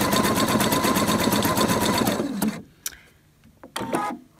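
A domestic sewing machine runs a zigzag overcast stitch along a fabric edge, a fast, even mechanical whir with rapid needle ticks for about two seconds before stopping, followed by a few clicks and handling knocks.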